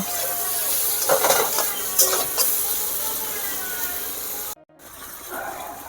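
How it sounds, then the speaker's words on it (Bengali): Cauliflower frying in oil in a pan gives a steady, close hiss of sizzling, with a few brief louder bursts as the pieces are moved about, and one sudden short drop-out near the end. "ফুলকপি প্রায় হয়ে গেছে আর কিছুক্ষণ ভেজে তারপর নামিয়ে নেব"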